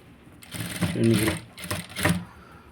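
A sewing machine stitches potli buttons in place with thread piping, running in short bursts of fairly steady whirring while someone talks over it.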